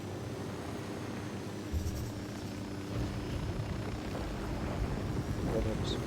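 Helicopter rotor drone in the video game Ghost Recon Wildlands, a steady low throbbing roar that fills the whole clip at moderate level, with faint voices mixed underneath.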